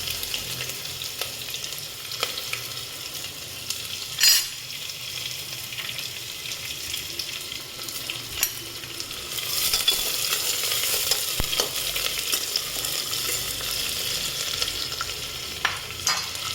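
Onions frying and being stirred in a pan for a Hyderabadi mutton biryani made with coconut milk, a steady close sizzle with occasional scraping stirs, no talking.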